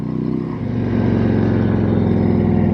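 A Harley-Davidson Tri Glide Standard in black, ridden on the road, gives a steady, loud engine drone that builds slightly after the first half second and then holds even, with no talking.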